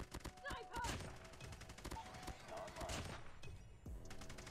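An SMG built on a Damascus AUG fires in rapid bursts during a Call of Duty Mobile match, with dense, loud crackling shots and a voice talking over the gunfire.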